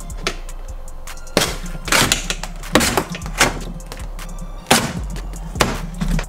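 Outer door panel being pried off a Ford F250 truck door, with a series of loud hollow thunks and knocks, several sharp thuds and plastic clunks in an irregular rhythm, close up.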